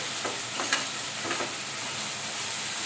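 Bitter gourd pieces frying in an oiled pan for a curry, a steady soft sizzle with a few faint stirring scrapes and clicks, close but fairly quiet.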